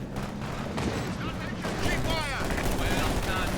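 Rapid machine gun fire amid battle noise in the strategy video game Company of Heroes 2: dense crackling bursts layered with booms and whooshing effects, loud and continuous for the whole stretch.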